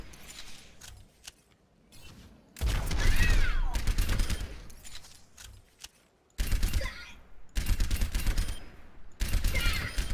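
Video game gunfire in a shooter match comes as several rapid bursts, loud and close, separated by short gaps and quieter mechanical clicks and rattles.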